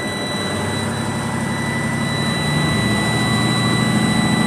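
A truck engine held at a fast idle around 1,500 RPM during an air brake check, a steady loud drone with a faint high whine, growing slightly louder partway through, with no talking.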